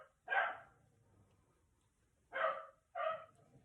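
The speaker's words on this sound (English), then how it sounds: "Oh, Chewy is barking up a storm." A dog named Chewy barks three times at moderate distance, one sharp bark followed after a pause by a quick pair, with quiet gaps between.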